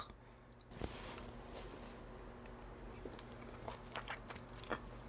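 Someone eats Korean-style mala tang dipped in peanut sauce, with soft biting and chewing sounds, close and quiet, scattered irregularly over a low room hum.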